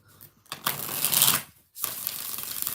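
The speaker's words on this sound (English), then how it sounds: "6 shuffles." A deck of tarot cards is shuffled in close, loud bursts of riffling and flapping, a long rush, a brief pause, then another steady run of card noise with no talking.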